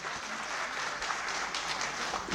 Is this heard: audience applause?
yes